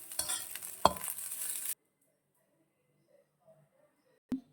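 Fried rice being stirred in a pan with mango pickle gravy, a scraping, sizzling stir for under two seconds with one sharp clink, then near silence broken by a single brief knock.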